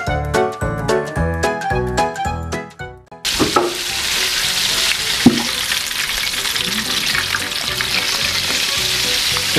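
Chicken frying in a hot pan: loud, dense sizzling and crackling that starts abruptly after a few seconds of rhythmic music, with a couple of sharp clinks and stirring sounds, no talk.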